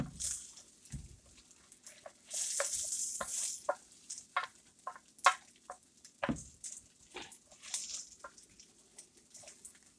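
Rice grains being toasted and stirred in butter and oil for pilaf, a soft steady sizzle broken by scattered clicks and scrapes of a utensil against the pan, close and moderately quiet.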